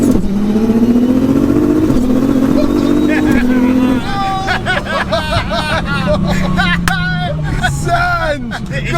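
A modified, cheaply built car's engine roars as it accelerates hard, rising in pitch through gears with quick flat-shift pops and crackles, loud and close, with excited voices shouting over it.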